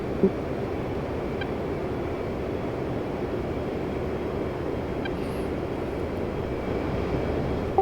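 An F-15C jet engine throttling down in a flight simulator, a steady broad rumbling roar holding at a fairly even, moderate level throughout, with a faint high tone and a couple of soft clicks, with no talk.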